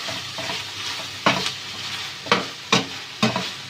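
Tawa chicken being stirred with coriander and mint in a hot pan, a steady sizzle broken by four or five sharp scraping strokes of the spoon, close and clear with no voices.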